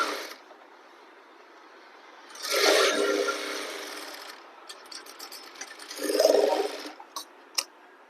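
A sewing machine stitches the side seam of a garara suit in two short whirring bursts separated by quiet pauses, with light clicks and handling noises between them.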